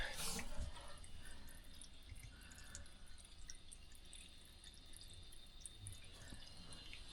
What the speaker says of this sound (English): let's get some water down it